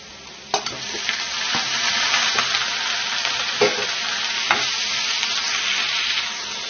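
Large cleaned prawns frying in hot oil with ginger and garlic give a loud, steady hiss, broken by several sharp spoon taps and stirring knocks through the frying and no talk.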